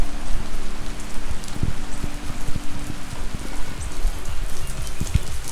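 Steady rain falls outdoors at an Alabama property with a swimming pool, a dense close hiss with scattered drops pattering sharply on nearby surfaces.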